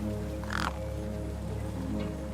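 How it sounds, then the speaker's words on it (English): One clear crow caw rises over a steady low hum, followed later by a fainter second call. "gang birds were eyeing up the corpse hungrily"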